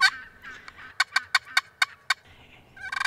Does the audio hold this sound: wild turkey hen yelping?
yes